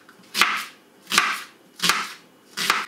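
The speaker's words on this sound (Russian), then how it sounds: "Значит, для начала порежу овощи," Knife chopping onion and carrot on a board, four evenly spaced crisp chops about every three quarters of a second, close and clear with no talk.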